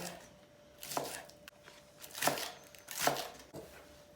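A knife chops green onions on a cutting board in a few slow, separate strokes, each a crisp thud close by.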